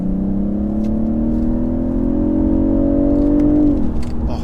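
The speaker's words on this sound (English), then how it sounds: "that B58 is such a good engine" A BMW 840i Gran Coupe's B58 engine accelerating, loud and close, its tone climbing smoothly for several seconds before the revs settle back.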